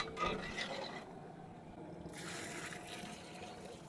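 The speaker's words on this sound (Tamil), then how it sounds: "ஒன்றரை லிட்டர் அளவுக்கு தண்ணியை ஊற்றி நான் போட போகிறேன்" Water pours and splashes into a pot of masala with a steady rushing trickle, fairly quiet, with scraping at the start.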